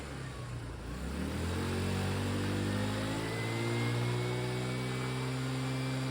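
Engine of a 2014 Tao Tao 150cc GY6 scooter running close by, idling and then revving up to a steady higher-rpm drone, with clear rising engine tones and no talk.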